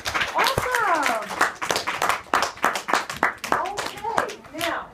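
An audience of children and parents in a classroom-style gathering gives a round of applause after a child's presentation, with bursts of clapping mixed with kids talking and adult voices over it.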